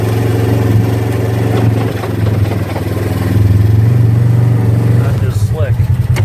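Polaris RZR XP1000 side-by-side driven with SureGrip-HVL hand controls, its engine droning steadily and loud throughout, swelling slightly as throttle is applied, with people talking over it.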